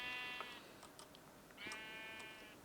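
Blocky video-game sheep bleat twice, each cry a wavering, nasal call that fades out, the first near the start and the second just past the midpoint, with no talking over them.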